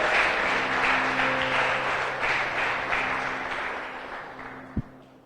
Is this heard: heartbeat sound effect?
no